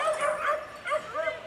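Dogs yipping and barking before feeding, several excited short barks and whimpering yips in quick succession, close and fairly loud.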